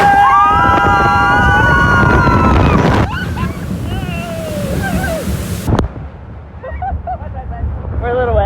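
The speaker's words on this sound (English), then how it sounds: "That was a very good splash." Splash Mountain log ride dropping into the water, a loud broadband rush of wind and splashing water with excited voices and shrieks over it, fading into quieter water sounds and chatter.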